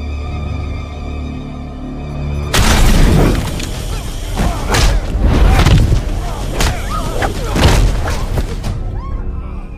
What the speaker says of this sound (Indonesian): kamera yang ada di depan mereka meledak dan mengeluarkan asap banyak